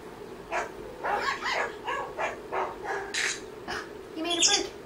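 A dog sound effect from the Sound Shaker iPad app plays a run of short, evenly spaced barks, close and clear over a quiet background.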